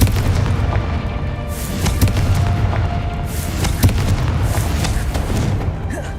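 Confringo explosive spell blasts in Hogwarts Legacy, loud repeated booming impacts over a rumbling background of combat noise, close and forceful throughout.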